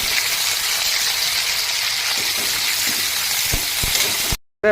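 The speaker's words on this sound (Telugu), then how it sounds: "ఇప్పుడు స్టవ్ మీద కడాయి పెట్టి కొద్దిగా ఆయిల్ పోసుకొని అందులో బెండకాయలు వేసి వేయించుకుంటున్నాను" Okra fries in a little oil in a kadai, giving a loud, dense, continuous sizzling hiss up close that cuts off abruptly at the end.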